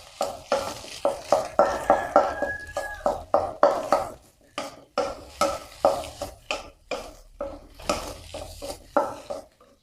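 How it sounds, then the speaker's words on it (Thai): Chopped garlic and egg are stir-fried in a pan with a rhythmic series of loud spatula strokes scraping the metal, each stroke followed by a brief sizzle, the pattern repeating steadily. "กระเทียมสับหรือกระเทียมตำที่เราเตรียมไว้ ใส่ลงไปผัดเลยค่ะ"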